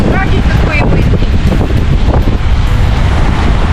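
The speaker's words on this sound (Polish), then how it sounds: "Zobacz, jakie na otwartym oceanie, jaki wiatr." Strong wind roars steadily over the open ocean near Puerto Rico, buffeting the microphone in a loud, continuous rush, with faint voices briefly mixed in.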